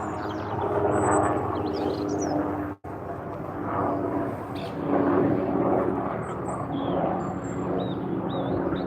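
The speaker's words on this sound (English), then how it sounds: "Seems to be a lot of aircrafts going over today." An aircraft passes overhead above a fishing lake, a broad, rumbling engine drone that swells and fades over several seconds, fairly loud and distant-sounding, with faint birdsong in the background.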